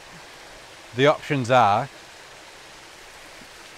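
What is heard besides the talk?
waterfall and stream water flowing near Brotherswater, Lake District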